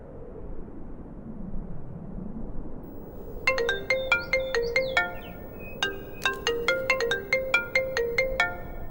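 Mobile phone ringtone of an incoming call, a bright repeating electronic melody of short notes entering after a low rumbling stretch, ringing steadily and fairly close in two phrases.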